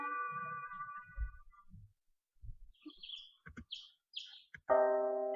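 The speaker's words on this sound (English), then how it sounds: "Awakened by the twittering sparrows, Tsubaki squinted into the morning light" Sparrows twitter sparsely in the morning quiet, with short chirps and tweets scattered among faint soft thumps and a few brief tonal sounds.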